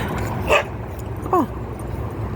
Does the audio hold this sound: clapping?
no